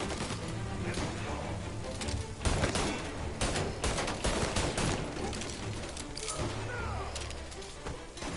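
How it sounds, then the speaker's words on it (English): Shotgun fire from the Mafia 1 Remake on PS4 blends into a dense, continuous exchange of gunfire, with booming shots and clattering cracks layered over each other. "That's a shotgun!"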